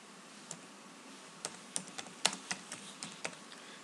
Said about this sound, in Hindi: यहाँ पे टाइप करेंगे क्विक